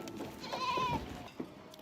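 Goats bleating in a park, with one clear, wavering bleat rising over soft outdoor background noise and a faint second call shortly after.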